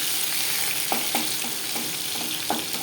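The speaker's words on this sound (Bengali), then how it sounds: "রসুন হালকা করে ভেজে নেব" Garlic fries in hot oil with dried red chillies for a Bengali bottle-gourd greens dish, making a loud, dense, continuous sizzle close up, with a few soft scrapes of stirring and no voices.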